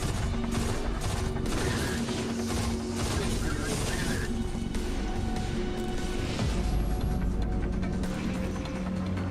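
Sustained rapid automatic gunfire from a chain gun in the sci-fi shooter Destiny 2, dense and loud over mechanical clatter and crashing effects, continuous for the whole stretch with no talking.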